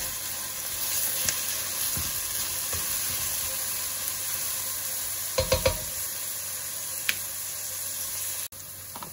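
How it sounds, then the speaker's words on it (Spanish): A sofrito of pepper, onion, tomato and a little chopped garlic sizzles steadily in a pan, with a few sharp stirring clatters midway and a brief dip near the end. "hacéis un sofrito de pimiento y cebolla y tomate. Y un poquito de ajo"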